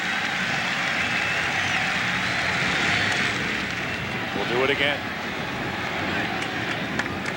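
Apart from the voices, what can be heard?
big Yankee Stadium crowd during a baseball game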